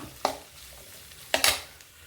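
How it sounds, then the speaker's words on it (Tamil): A spoon stirs beetroot stir-fry with ground spice powder in a pan: two quick scraping strokes, close and fairly faint, with no voices. "ஆட் பண்ணி நல்லா மிக்ஸ் பண்ணி விட்டுக்கணும்"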